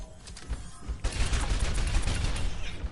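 A character in a video game fires a small pistol, and after a quieter opening a rapid burst of sharp shots crackles densely and keeps going to the end.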